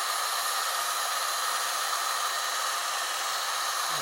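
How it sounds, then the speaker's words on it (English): Heat gun blowing on vinyl wrap over a BRP Oxygen motorcycle helmet, a constant loud airy roar held steadily throughout without voices. "Just heat it until the vinyl starts to move."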